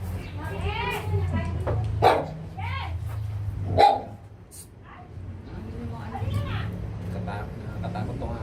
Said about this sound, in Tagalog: Nakatakot tong aso.